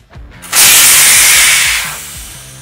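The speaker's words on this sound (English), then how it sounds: "First, deflate your tire if it's not already deflated." A loud, steady hiss of air escaping from a Kingsong 18XL electric unicycle tire tube once its valve is opened, bursting in abruptly and then tapering off over about a second and a half, with faint low handling noises around it.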